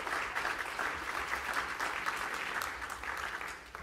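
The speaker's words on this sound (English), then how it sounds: "So please give them a warm round of applause for all that they do." Audience applause at a book event, a continuous even wash of many hands clapping, moderately distant and steady.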